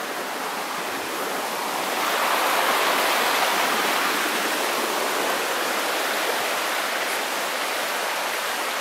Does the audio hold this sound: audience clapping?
no